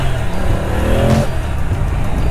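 Moto Guzzi motorcycle engine running close by as the throttle opens, a loud steady drone whose pitch climbs briefly in a short rev before settling.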